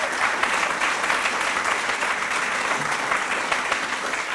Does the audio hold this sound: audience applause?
yes